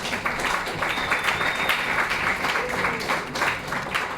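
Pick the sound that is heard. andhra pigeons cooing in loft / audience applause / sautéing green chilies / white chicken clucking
audience applause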